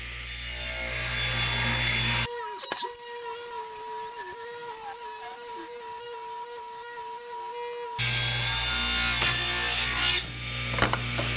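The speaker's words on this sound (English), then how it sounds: "Right now I'm cutting pieces so that I can make the face frame." A saw cuts reclaimed wood into 1.5-inch-wide strips for a face frame. A loud, steady cutting roar runs for a few seconds, pauses in a quieter stretch with a sustained tone, then resumes, close and without speech.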